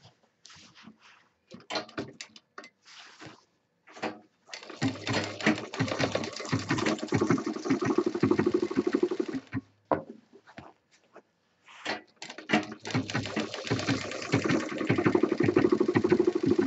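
A sewing machine stitches a handbag in several runs, its rapid mechanical whir starting and stopping with short pauses in between, close and fairly loud.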